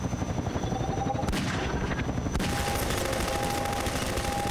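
Rapid bursts of automatic gunfire from a weapon in Half-Life 2, dense and continuous, with a sustained high-pitched rattle and an abrupt change in character partway through.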